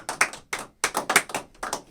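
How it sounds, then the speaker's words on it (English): A few pairs of hands clapping on a radio show for a guest named Frankie, loose irregular bursts of claps close by, with brief gaps between them. "we'll give you a round of applause"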